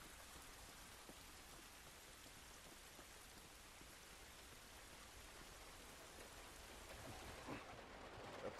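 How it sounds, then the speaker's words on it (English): Steady rain falls outdoors with distant thunder in a drama series scene, a constant faint hiss that swells slightly toward the end, with no voices. "This rain ain't gonna do us any good."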